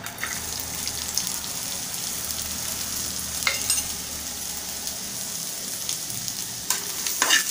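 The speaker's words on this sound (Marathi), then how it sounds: "यामध्ये आपण कांदा, लसूण आणि अद्रक टाकूया" Onion, garlic and ginger sizzle and fry in a little oil for a Malvani-style egg curry, a steady close crackle with occasional louder stirring scrapes and bursts.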